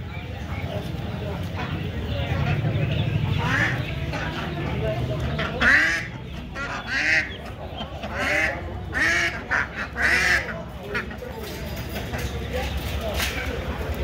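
Ducks and ducklings quack among crowd noise at a busy country poultry market, the calls repeating irregularly and moderately near while people talk throughout.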